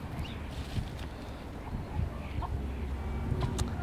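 A hen clucks in complaint, reluctant to step out into fresh snow after a blizzard, giving soft, short, irregular clucks at a moderate distance over a low background rumble.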